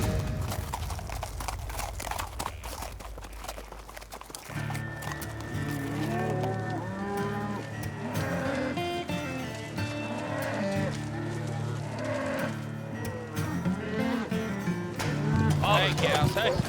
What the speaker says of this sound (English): Hey, cows, hey.